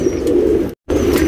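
A tournament pigeon coos up close, a loud, low, throaty rolling murmur that breaks off briefly into silence and then resumes.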